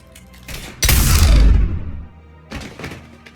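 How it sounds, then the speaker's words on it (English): Gunfire in the video game Mass Effect 3 Legendary Edition: one heavy booming blast that decays over about a second, followed later by a couple of lighter, duller thumps. "Now open fire!"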